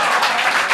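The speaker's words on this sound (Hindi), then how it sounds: "ये जो तालियां बज रही हैं टीआरडी के लिए" Audience applause during a Hindi poem recital, a short, steady patter of many hands clapping with no voices over it.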